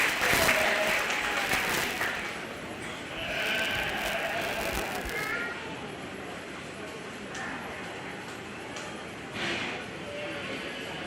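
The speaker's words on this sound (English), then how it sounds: "Give these exhibitors all a nice round of applause for this project." Sustained audience applause fills a county fair 4H/FFA sheep and little lambs show ring, dense and loud at first then settling into steady clapping, with occasional sheep bleats mixed in.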